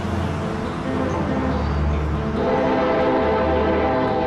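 A freight train rumbles past nearby with a steady, loud, low drone, a long horn tone sounding over the rolling wagons throughout.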